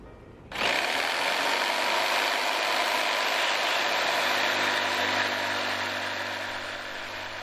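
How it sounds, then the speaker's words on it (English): An electric jigsaw fitted with a fine blade cuts pine boards. It starts abruptly with a loud, close, harsh buzzing whine that holds steady for several seconds and fades slightly toward the end. "Then I used an electric jigsaw to cut out the boards."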